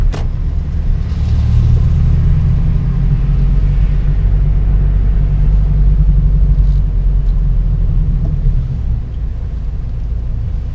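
A Toyota 86 with a DC Sports cat-back exhaust rolls slowly at idle through a quiet townhouse area, giving a deep, steady, close rumble with no revving.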